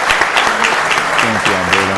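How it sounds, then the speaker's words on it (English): Audience applauding at a city council meeting, a steady wash of clapping hands lasting the whole stretch, with a voice speaking briefly over the applause. "Let's give Alberta an applause."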